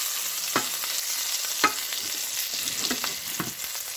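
Lightlife plant-based burger patty being flipped in a hot pan, a steady close sizzle of frying broken by a few sharp scraping clicks of the spatula.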